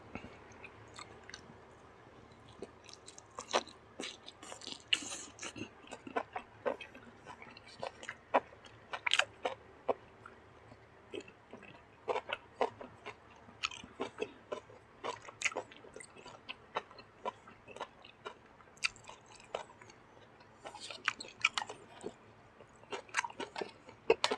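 Close-up eating of bacon-wrapped enoki mushrooms in spicy mala sauce, with irregular crunchy bites and wet, squishy chewing, faint and intimate, and no talking.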